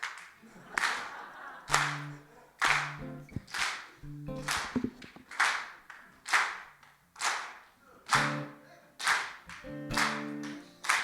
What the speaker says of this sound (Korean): 해병대 박수